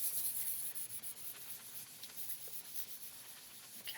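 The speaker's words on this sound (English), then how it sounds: "I'm going to use my fingers to rub it in," Fingertips rub pencil shading into paper in slow circular strokes, giving a soft, continuous, close-up scratchy brushing that swells and fades without pause.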